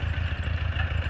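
A Ford 8N tractor engine runs steadily with snow chains fitted, a close, continuous low throbbing idle with an even pulsing rhythm and no voices.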